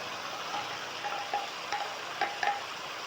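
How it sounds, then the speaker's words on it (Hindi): Spinach stir-frying in a spiced masala in a pan for aloo palak, a low steady sizzle broken by a few spatula scrapes and knocks. "अब ये जो पालक है ये इसमें मैं डाल के इसकी 4 से 5 मिनट मैंने भुनाई करनी है"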